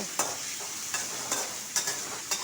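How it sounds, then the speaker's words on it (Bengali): Potatoes frying in a pan with salt and turmeric, a soft steady sizzle broken by a regular rhythm of sharp stirring scrapes about every half second. "এখন একটু লবণ দেব একটু হলুদ দেব দিয়ে এটাকে একটু ভাজা ভাজা করব"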